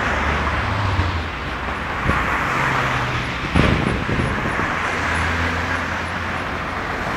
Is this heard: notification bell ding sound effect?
no